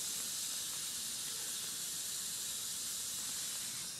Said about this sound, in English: The resistor is heating up because of its resistance, and the heat is so great that it is boiling the water.